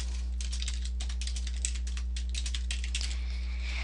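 Fingers type on a computer keyboard in quick, uneven bursts of close keystroke clicks over a constant low electrical hum, with no speech.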